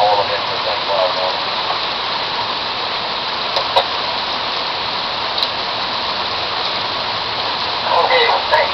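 Heavy rain from a passing thunderstorm near St. Cloud pours down as a steady, loud hiss that fills the whole stretch, with faint scattered clicks and no talk over it.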